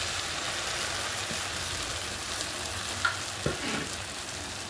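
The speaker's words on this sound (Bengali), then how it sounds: "এখন ভাজা আলুটা দিয়ে দেবো।" Already-fried potato pieces hit hot spiced oil with a steady, even sizzle that runs throughout, broken by two sharp utensil clinks near the end.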